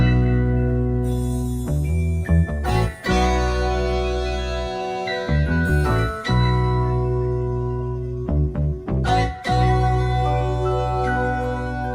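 A soul-sample hip-hop beat plays without vocals, with steady harmonic chords, a booming low end and punchy drum hits that briefly drop out and return, loud and continuous throughout.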